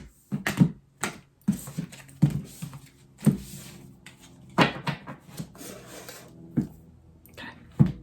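A deck of tarot cards is shuffled by hand in irregular soft riffles and taps, close and fairly quiet, with short pauses between bursts and no talking.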